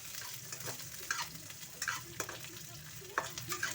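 Onion frying in a pan for a Filipino vegetable coconut-milk dish, with a soft steady sizzle and several sharp clicks and scrapes from stirring, fairly quiet and close, no talking.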